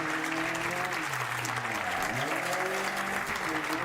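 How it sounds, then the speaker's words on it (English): Steady, dense audience applause at a Nordic drug reform conference, continuous and fairly loud for the whole stretch, with a low humming tone running underneath. "this applause is to everybody at Røverstaden"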